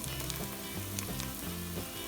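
Vegetables for pasta sauce sizzle and crackle steadily in a pot, a close, dense frying hiss with a few stirring clinks and no voices.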